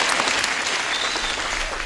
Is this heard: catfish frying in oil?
no